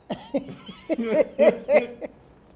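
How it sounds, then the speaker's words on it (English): A few short coughs in a row, close and fairly loud, with small breathy bursts between them and no speech. "Trying to avoid another cough."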